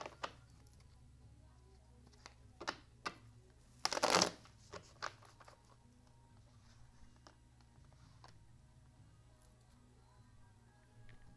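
Tarot cards shuffled by hand in a quiet room, a few soft riffling bursts with one loud, dense flutter near the middle, with faint clicks scattered around it.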